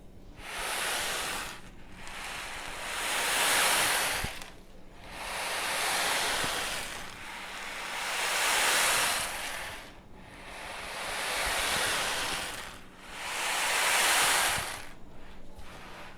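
Sponge seeds tumbling inside a large ocean box mimic sea waves, a soft hissing swell that rises and fades in about six slow, regular surges.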